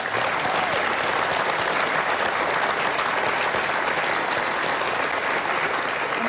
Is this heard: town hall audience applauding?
yes